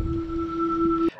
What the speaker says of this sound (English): Or when you put it into reverse, it's going to sound like a spaceship